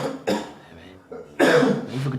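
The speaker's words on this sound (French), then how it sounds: "Depuis des années que je te connais, tu tousses toujours." A person who has coughed for years gives a few harsh coughs and throat-clearing bursts up close, separated by short pauses.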